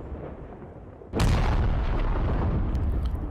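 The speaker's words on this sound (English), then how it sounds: "More indirect fire" Indirect artillery fire from the video game Squad lands near a bridge: a sudden loud blast about a second in, then a sustained rumbling roar that lingers and stays dense to the end of the clip.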